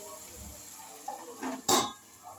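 A pot lid comes off a pot of potatoes boiling in a little water, with a few light clinks and then one sharper metallic clank over a quiet kitchen background.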